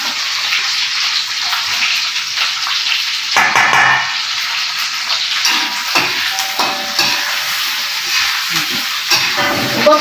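Food fries in a pan while chicken feet and head soto is being prepared, a loud, continuous sizzling hiss with brief bursts of stirring and no talking.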